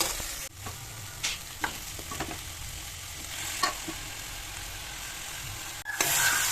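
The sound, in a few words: chicken frying with turmeric in pan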